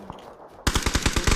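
Groza rifle gunfire in a video game, a rapid automatic burst of about eight loud, evenly spaced shots that starts suddenly after a quiet moment.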